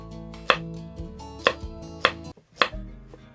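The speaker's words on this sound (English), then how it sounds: "I'm just cutting them, you know, in little rounds." Carrots sliced into little rounds on a board: four crisp knife strikes land at uneven intervals, close and clear with nothing else around them.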